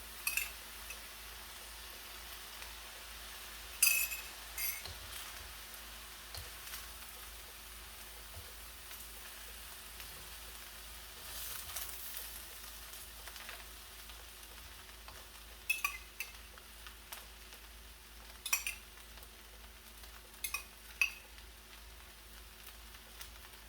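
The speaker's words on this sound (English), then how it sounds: "You want to hear that sizzle." A soft, steady sizzle of sauce frying in a hot pan with sausage fried rice, with occasional louder pops and spatters over the continuous hiss.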